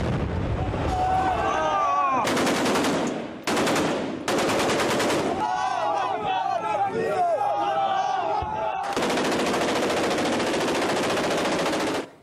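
Gunfire from armed gangs in Libya crackles in loud bursts of rapid automatic shots and blasts, broken by short gaps, with shouting voices mixed in and a long sustained volley near the end.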